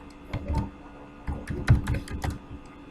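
Keystrokes on a computer keyboard while entering a web page subheading, several short bursts of close clicks separated by pauses, with no talking.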